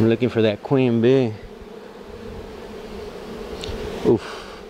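A massive honey bee swarm hums steadily during a removal in Weslaco, Texas, the insects droning close and continuous for several seconds, while a voice briefly speaks over the first part.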